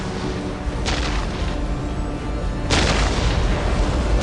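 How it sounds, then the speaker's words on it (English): Ork artillery fire in Warhammer 40k Dawn of War: a dense, continuous roar of booming blasts and rumble, with two sharper, louder bursts standing out partway through. "We will silence that Ork artillery."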